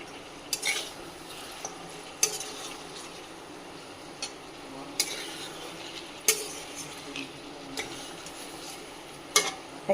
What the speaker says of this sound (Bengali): এখন চিকেন কষানো চলছে।